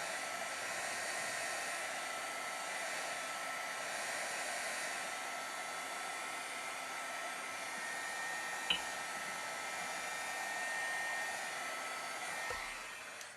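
A hair dryer runs steadily for the whole stretch, drying a watercolor painting of a butterfly in autumn hues. It holds a loud, even, continuous whir close to the microphone, with one faint click partway through and no voices.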